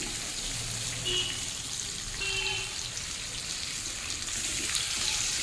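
Pumpkin pieces fry in oil on a low flame for a prawn, pumpkin, potato and pointed gourd curry, a faint, steady soft hiss of sizzling with a few light crackles and no talking.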